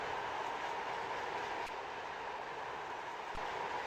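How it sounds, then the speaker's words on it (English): A container train rolls along steadily in the SimRail train simulator, a continuous loud rumble and hiss of wheels on rails with faint rhythmic clicks, no voices. "We do have a container train today."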